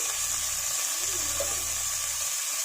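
Toor dal lentils being rinsed in water for a stem curry, a soft continuous running-water wash with faint sloshing, close and fairly quiet, with no talking.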